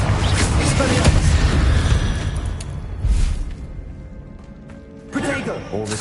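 Spell blasts in Hogwarts Legacy: booming Bombarda and Confringo explosions with crashing bursts and whooshes, loud and close, mixed with spoken voices over the top.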